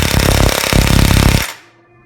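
An impact wrench drives a bushing press tool on a car's front control arm, a loud, dense burst of rapid hammering lasting over a second before it abruptly stops, leaving a faint ringing tail.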